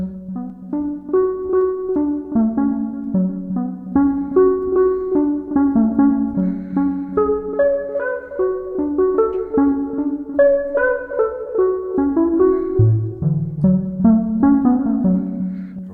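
Synthesizer tones from the Nuclear VSTi plugin play a steady melodic line over sustained chords and a low bass, continuous and full for the whole stretch with no voice.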